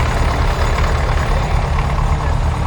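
A Lamborghini 1R tractor idles at a vintage tractor festival in Kent, a steady, close, low diesel rumble that holds evenly through the whole stretch with no breaks.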